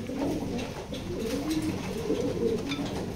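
Racing pigeons coo in soft, repeated low rolling calls, several birds overlapping close by in a quiet loft, with no voices.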